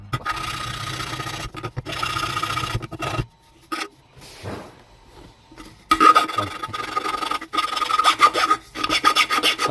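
Flat side of a file rasps against an aluminium drink can in close, steady strokes, breaking into a quieter pause midway before the scraping resumes loudly.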